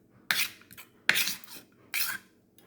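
A spoon scrapes and clinks as ingredients are spooned into a mixer jar for a summer drink, in three distinct close bursts separated by quiet pauses.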